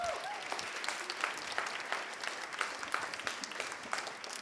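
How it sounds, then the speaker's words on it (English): A school audience applauds a flute player at a middle school spring orchestra and chorus concert, a steady wash of many hands clapping that holds evenly for several seconds. "Can you give her a round of applause, please?"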